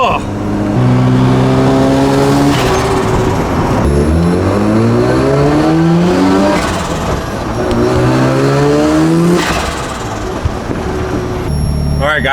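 Porsche race cars rev hard and accelerate through several long rising pulls, the loud engine note climbing, dropping and climbing again without a break.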